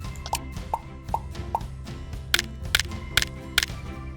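Short cartoonish reward pops and chimes from a dog shepherd video game, a run of four soft plops followed by four brighter sparkling hits, evenly spaced over light background music.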